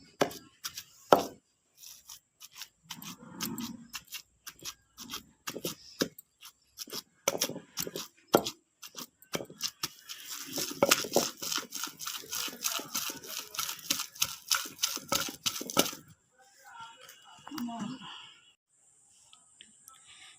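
Gongura leaves and garlic being pounded into chutney in a stone mortar, with a long run of sharp, close, rhythmic thuds that speed into a steady fast beat before slowing and stopping.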